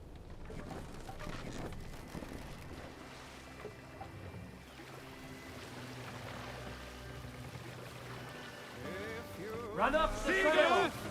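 A sailing ship glides across the sea in Assassin's Creed Valhalla, with a steady wash of water and creaking hull running under a soft musical bed, swelling louder near the end.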